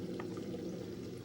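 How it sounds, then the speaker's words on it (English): A stream of water flows outdoors in a steady, soft burbling wash with faint splashes, low in level and continuous throughout. "We made it to a stream."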